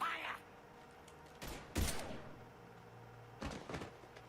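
Bursts of gunfire in the video game Mass Effect 3 sound in three short clusters under a steady low background hum, with speech also present in the mix.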